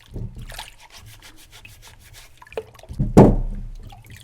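Altari radish skin being scrubbed clean under water, with quick rubbing strokes and light splashes building to a louder wet slosh near the end, close to the ear, no talking.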